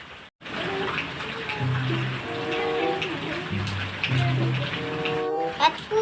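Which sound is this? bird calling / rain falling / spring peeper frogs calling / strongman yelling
rain falling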